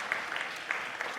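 An audience claps for a speaker being introduced, a short burst of scattered applause at moderate distance, with faint voices underneath.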